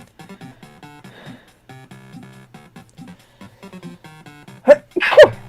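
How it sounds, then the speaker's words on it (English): Two sharp, close sneezes burst out in quick succession near the end, after a stretch of soft, tonal background sound. "Oh, hang on, I gotta sneeze."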